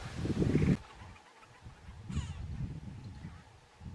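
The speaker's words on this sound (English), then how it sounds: "You can't see the birds in the trees, but the noise is cute." Birds calling from trees along a bushland walking trail in a valley, heard as a few faint, scattered calls against quiet outdoor background, with a louder rustle near the start.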